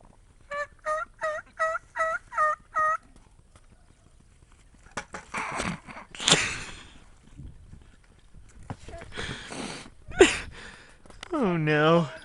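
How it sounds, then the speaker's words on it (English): Wild turkeys gobble at the start of turkey season, with a rapid series of about seven evenly spaced clucking calls, then louder rolling gobbles, with people talking in between and over the birds. "I heard the turkeys calling you."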